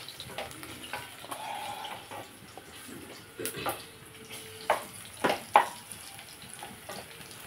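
Onions fry quietly in a pan, a faint sizzle with occasional sharp clinks and scrapes of a utensil against the pan, and no talking.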